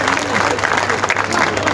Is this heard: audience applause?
yes